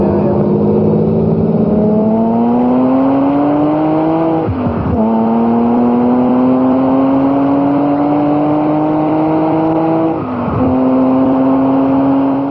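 A Lamborghini Countach at high speed on a public road, engine note loud and close, rising steadily in pitch through long pulls with two brief dips for gear changes.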